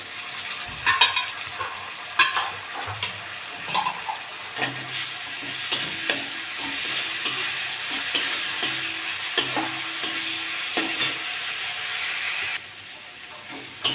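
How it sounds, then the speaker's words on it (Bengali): Ginger garlic paste frying with browned onion in hot oil, a continuous close sizzle broken by repeated clacks and scrapes of a spatula stirring the pan, no speech. "পেঁয়াজটা একটু ভাজা ভাজা হয়ে গেছে আমি আদা রসুন বাটা এক চামচি দিয়ে দেবো"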